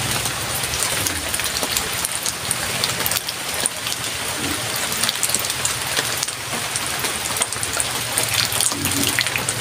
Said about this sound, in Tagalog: Umuulan na naman, oh.